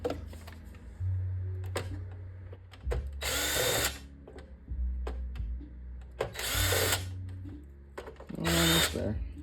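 Power driver backing screws out of a PlayStation 5 console in three loud, whirring bursts of about a second each, with quieter clicks and handling noises between them.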